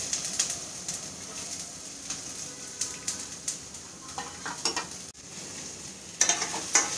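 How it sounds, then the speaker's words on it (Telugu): Chopped onions and green chillies fry in a pan for a ridge gourd curry, giving a soft, steady sizzle with light stirring scrapes and clinks near the start and end. "ఇది మనం ఇప్పుడు వేయించేసుకుందాం."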